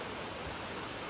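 Thusharagiri waterfall rushes as a dense, even hiss of falling water, steady and fairly close for a brief moment with no voices.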